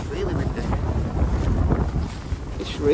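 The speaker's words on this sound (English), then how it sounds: "Oh, it's really windy." Strong wind at the top of a hill, buffeting the microphone in steady gusty rumbles that fill the whole stretch, with a person speaking faintly beneath it.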